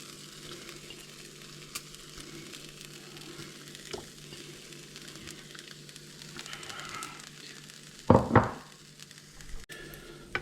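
Bacon frying in a pan, nearly done and starting to smoke, gives a steady low sizzle throughout, broken by a louder brief crackle and scrape near the end.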